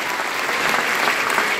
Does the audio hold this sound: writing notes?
no